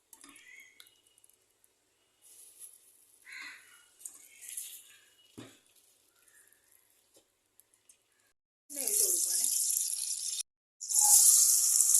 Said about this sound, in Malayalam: ഇത് തേങ്ങായും ഉള്ളിയും കൂടി വറുത്തെടുക്കാം നെയ്യ് ഒഴിച്ചു കൊടുക്കുവാണേ